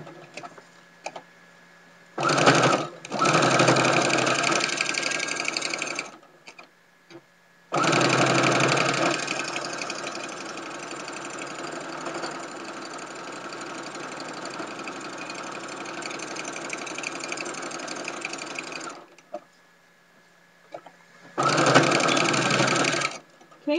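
A sewing machine stitches a tag blanket in bursts: a short run, a long steady run of rapid stitching, then another short burst, with quiet pauses in between.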